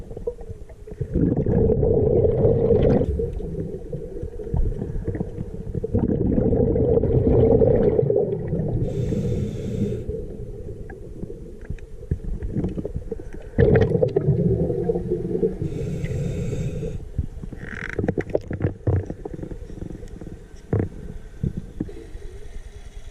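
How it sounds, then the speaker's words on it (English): A boat motor passing over a river, heard underwater by a scuba diver, makes a low, throbbing drone that swells and fades, broken by loud gurgling bursts of exhaled bubbles. "Do you hear that? That is a boat."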